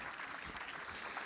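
Audience at a summer night show applauds a performer, a dense continuous patter of many clapping hands, faint and distant-sounding, steady throughout with no talk over it.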